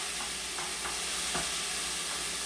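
Food for a shepherd's pie being sautéed and stirred in a pot: a constant loud frying hiss with a few light scraping taps from the utensil at uneven intervals.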